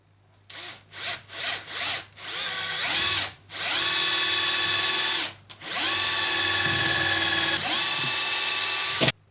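Power drill driving screws into a glued wooden plant shelf during assembly: a few short bursts first, then two long sustained whirring runs, loud and close, with no talk.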